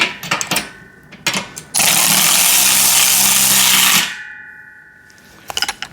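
A handheld power tool whirs steadily for about two seconds while tightening bolts on a pec deck and rear delt home gym machine, with brief clicks and short bursts of the tool before and after.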